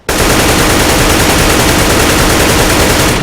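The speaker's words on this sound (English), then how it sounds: "let me show you guys what the uncontrolled recoil pattern looks like with the AK-47 currently." AK-47 automatic fire in the video game CS:GO, one loud unbroken burst of rapid shots lasting about three seconds, with no voices.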